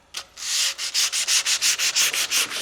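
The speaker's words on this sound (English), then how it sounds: "I'm going to use this old 220 grit sanding disc to clean out the groove on this table." A 220 grit sanding disc scrubs rust from a groove in a cast iron table, a close, rhythmic rasping of about a dozen even back-and-forth strokes with no talk.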